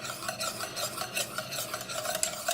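Melted butter is whisked into egg yolks for hollandaise sauce, a quiet, rapid, continuous scraping and swishing of a whisk against the bowl, close and with no talk.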